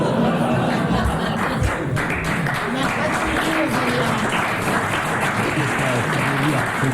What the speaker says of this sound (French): Il y a tout de même 22 personnes qui ont applaudi